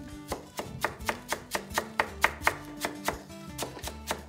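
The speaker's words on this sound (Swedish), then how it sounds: "Jag ska hacka lite koriander." Fresh coriander chopped with a knife on a cutting board, a steady run of crisp, evenly spaced taps, close up, with no talking.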